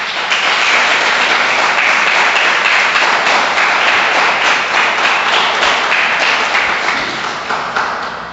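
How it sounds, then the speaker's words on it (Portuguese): A church congregation applauds during worship, loud, dense and sustained clapping filling the room, tapering slightly at the very end. "Você pode aplaudir Ele"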